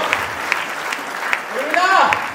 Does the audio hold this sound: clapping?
yes